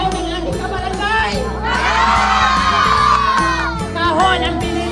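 A village crowd at a Christmas game show shouts and cheers together, loud and sustained, with children's voices whooping above a steady beat of background music.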